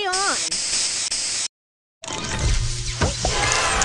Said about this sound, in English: Booster ready. Spray on.